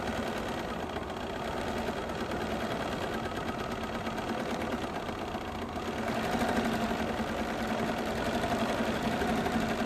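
A sewing machine stitches continuously during free motion quilting, a close, steady mechanical whir and rapid needle chatter that speeds up slightly partway through, with no speech.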